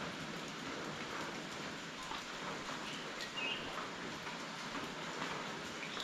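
Unseasonal rain falls around a hill-station resort, a dense, even hiss of drops on surfaces that stays constant and fairly soft throughout, with no voices.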